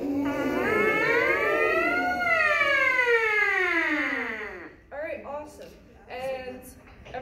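A group of brass instruments imitates a siren, sliding up and down together in long wailing glides, followed by shorter rising and falling swoops.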